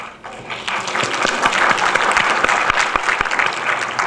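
An enthusiastic audience at a fashion-industry lecture bursts into applause. Clapping swells quickly and then holds as a dense, steady patter from many hands in a hall.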